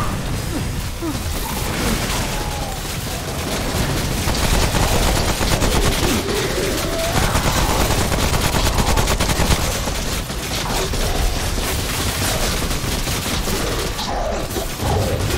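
Deployed turrets in Remnant firing on enemies, a loud relentless stream of rapid automatic shots with booms and crashes layered through the whole stretch.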